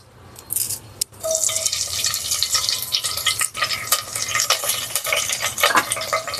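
Curry leaves hit about 20 ml of hot oil in a pan while making mutton dalcha, giving a steady, close crackling sizzle that carries on throughout with no talking.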